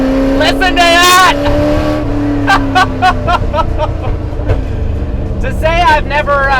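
Ford GT40 racecar engine with megaphone exhaust on a Le Mans staging grid, a loud continuous drone with rising and falling revs, rasping bursts throughout and a brief lull near the middle.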